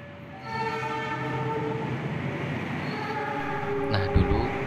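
A train rumbles past close by at Adisucipto Airport, Yogyakarta, with a sustained tonal horn, growing louder, then a sharp clank near the end.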